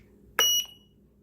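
A JR PROPO Dee Force Aviation Elite Matrix transmitter sounds its timer alert for an electric helicopter: one sharp electronic beep-chirp, close and loud, that cuts off quickly and leaves a brief ring behind it.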